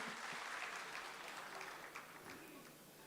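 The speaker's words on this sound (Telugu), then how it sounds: "ఒక్కసారి దండిగా మనం చప్పట్లతో హర్షాతిరేకాలు తెలియచేద్దాం" Steady applause from a large crowd at an award ceremony, dense and continuous throughout, heard from a distance and fading slightly toward the end.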